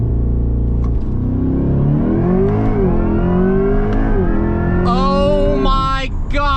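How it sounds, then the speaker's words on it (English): A 2024 Corvette E-Ray launches hard under launch control, its engine note climbing steadily in a loud, continuous rising whine, with a brief sharp burst of higher mechanical noise near the end. "Floor the brake, floor the gas."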